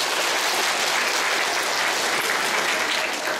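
A lecture-hall audience at a physics demonstration show claps steadily and densely for several seconds, a sustained wash of applause with no talking over it.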